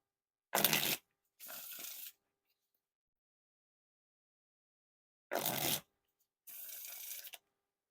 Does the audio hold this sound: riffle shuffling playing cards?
yes